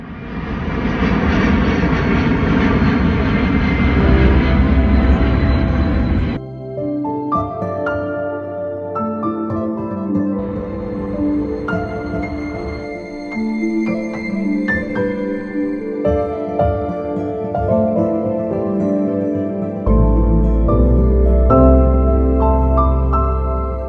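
A large airplane at the March Field Air Museum in Riverside, California, roars loudly for several seconds, then cuts off abruptly to quieter, tonal background sounds before a low rumble returns near the end; no one speaks.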